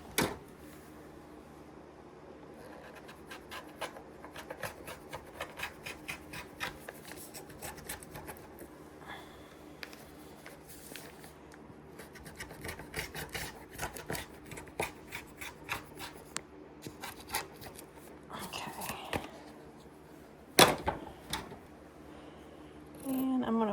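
Quilt fabric is cut with a 1 inch ruler line as a guide, making soft, irregular rubbing and slicing scrapes with quiet gaps between strokes and a sharper clack near the end.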